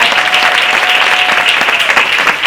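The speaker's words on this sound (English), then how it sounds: "Please give Robin and David a big round of applause" Loud, dense applause from a theater audience at a League of Independent Theater event, steady and sustained clapping throughout without a break.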